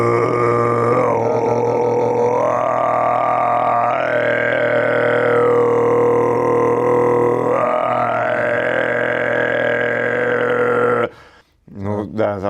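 Tuvan throat singing in the low, growling kargyraa style, a continuous loud buzzing drone whose overtones shift in pitch several times before stopping abruptly near the end, performed alone and close.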